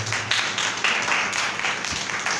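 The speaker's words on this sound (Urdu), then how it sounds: "زوردار تالیاں آپ ان کے لیے." Church congregation applauding loudly during a sermon on the Gospel of John, a steady wash of many hands clapping throughout, with no voices over it.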